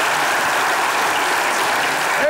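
An audience applauds Emre at a Turkish comedy show, a short steady wash of clapping that stays loud and even throughout.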